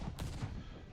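Explosive shell artillery fire in a Napoleonic Wars strategy video game: a single sharp blast with a broad crack, followed by a rumbling tail under a steady battle din, moderately distant.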